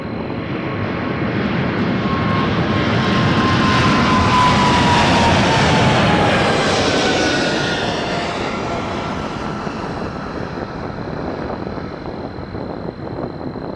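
A jet airliner approaches Toronto Pearson Airport, a loud continuous engine roar that builds to a peak mid-clip with a descending whine, then slowly fades as it passes, heard alone without talk.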